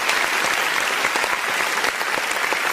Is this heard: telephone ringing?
no